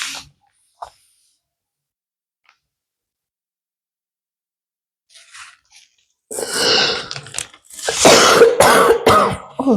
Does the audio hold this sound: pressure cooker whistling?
no